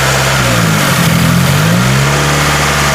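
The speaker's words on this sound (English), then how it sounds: "Now you might hear the engine kind of boggle a little bit" A 2017 Subaru Forester engine runs steadily at idle while CRC intake valve cleaner is sprayed into it, the low drone wavering and dipping slightly as it bogs, alone and close throughout.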